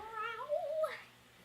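A single cat meows close by, a clear drawn-out cry that rises and then falls, heard alone with no other sounds around it.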